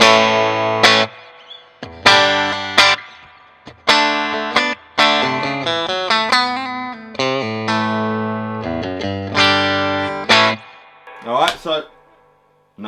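Electric guitar strumming chords and single notes through a Juketone Rival Son amp with light reverb set around 3, loud and close, with short pauses between phrases.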